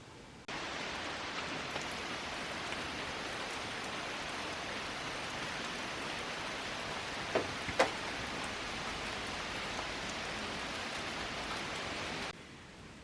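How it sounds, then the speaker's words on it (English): Steady rain falls outside on a dreary day as a constant, even hiss at low level, with a couple of faint ticks partway through. "It is a kind of a rainy, dreary day out there."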